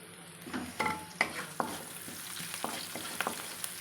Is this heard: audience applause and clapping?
no